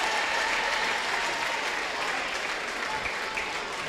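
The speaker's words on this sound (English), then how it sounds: "Ladies and gentlemen, a round of applause." Audience applause at a girls' all-star basketball game, steady, dense clapping from a crowd filling the gym throughout, fairly loud with no pause.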